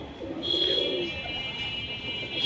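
Pigeons coo softly in short, low bursts against a quiet background, with a thin high-pitched tone running through part of the moment.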